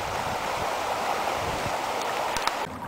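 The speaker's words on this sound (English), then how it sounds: "this is fast moving water, but it's very shallow. It's just skimming over the surface of the road here." Fast, shallow flood water skimming over a road in a flooded park, a steady loud rushing wash close by, with a few faint clicks near the end and no talk.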